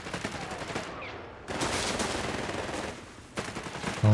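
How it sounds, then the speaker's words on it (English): Machine gun fire in Company of Heroes 3, with loud sustained bursts broken by brief pauses and a dense rattling texture throughout, heard close and alone without talk. "Here comes another machine gun into the center."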